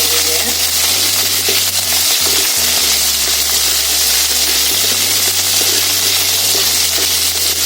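Whole onions frying in oil in a pan for an onion masala, a steady loud sizzle with some stirring.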